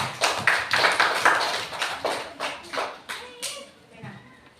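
Applause from a small group of classmates and a teacher in a school classroom during a teacher-training performance test, a burst of hand claps with distinct individual slaps that thins out and fades over several seconds.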